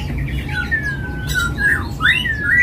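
A pied myna gives loud, close squawks and sliding whistled calls in several bursts over a low steady background hum, with no talking.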